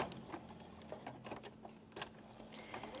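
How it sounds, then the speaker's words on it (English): Sewing machine stitching over thick quilt layers gives a quiet, fast run of small ticking clicks over a low steady hum, close by and without talking. "I'm going to sew over all those thicknesses in there"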